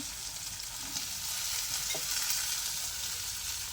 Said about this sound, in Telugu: ఆనియన్స్ అయితే ఎర్రగా వేగాయి కాకరకాయలు అయితే వేసుకుంటున్నాను